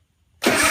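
A Hustler Raptor SD mower, lightly choked, is silent for a moment and then its engine catches and starts, settling straight into a loud, steady run close by.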